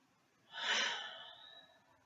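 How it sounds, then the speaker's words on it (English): A single deep breath drawn in and slowly let out, soft and close, rising quickly then fading over about a second and a half in quiet surroundings. "Let's try some deep breaths now."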